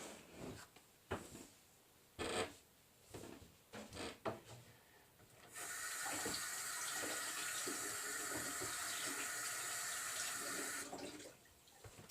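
Cold tap water runs from a faucet over a heated PVC bow, a steady bright hiss lasting about five seconds after a few knocks and handling clatters.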